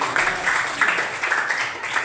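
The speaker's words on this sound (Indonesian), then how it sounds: "tepuk tangan untuk Pak Mandari" A classroom group applauds a student, Pak Mandari, with a short, fairly close burst of clapping that comes in slightly pulsing waves for about two seconds.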